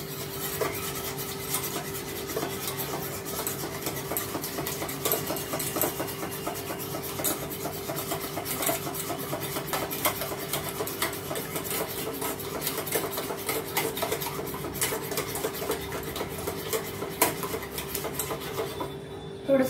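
Eggs with a little salt are beaten in a bowl, giving a continuous, rapid scraping and rubbing rhythm that carries on steadily and close up for the whole stretch.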